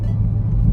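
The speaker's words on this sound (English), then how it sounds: "I'm driving the Camaro SS Super Sport" Chevrolet Camaro SS engine rumbling steadily while driving, a loud, deep, continuous low drone heard close with no talk.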